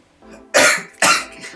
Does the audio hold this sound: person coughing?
yes